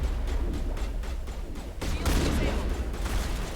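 Gunfire from shooting enemies in Mass Effect Legendary Edition, a dense stream of rapid shots over loud, busy game audio, growing heavier partway through.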